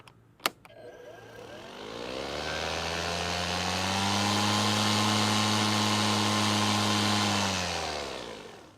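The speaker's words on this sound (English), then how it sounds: "and then you hear it really ramp up in that turbo mode" An EGO 22-inch aluminum-deck battery push mower motor whines up from a soft start into turbo mode, its hum climbing steadily in pitch and loudness before settling into a strong, sustained drone, close and alone.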